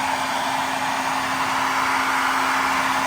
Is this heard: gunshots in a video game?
no